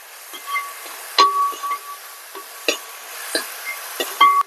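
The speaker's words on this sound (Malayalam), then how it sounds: "ഇത് നന്നായിട്ട് ഇളക്കി കൊടുക്കാം" Spoon stirring an onion mixture in a frying pan for a Kerala pepper sardine curry: irregular metallic clinks and scrapes over a faint, steady sizzle.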